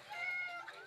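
A domestic cat meows once, a drawn-out, close meow over a faint background, with no talk.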